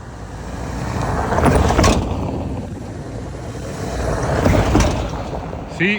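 Stock Toyota Fortuner driving over a bump at about 40 km/h: a rolling road rumble that swells twice, each time with knocking thuds from the suspension, loud and close, and a voice near the end.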